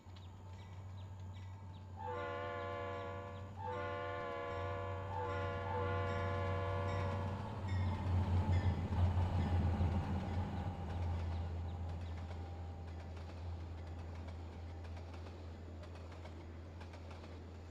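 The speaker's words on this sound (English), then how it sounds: "still don't know how to turn off the jointed rail clicking sound" A locomotive in the Trainz simulator sounds a series of horn blasts, then rolls past with a rumbling clatter of wheels over jointed rail that fades as it moves away.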